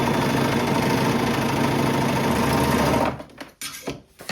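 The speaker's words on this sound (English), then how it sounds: "go back in with my serger and I'm just going to narrow this portion a tiny bit" A serger sewing machine stitches along a skirt seam to narrow the hips, a fast steady whirring buzz close by for about three seconds before stopping, followed by a few soft fabric handling clicks.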